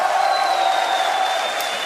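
A large crowd at a StarCraft 2 WCS Premier League semifinal cheers and claps in a steady, dense wash of sustained noise, loud and close throughout.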